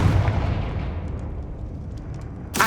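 A fire-blast spell detonates in the Hogwarts Legacy video game, a dense, rumbling explosive roar that fills the clip loudly and decays slowly, with a sharp new burst near the end.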